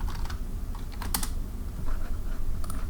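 Fingers tap on a computer keyboard in a few quick, light clusters of keystrokes, close and fairly quiet over a steady low hum.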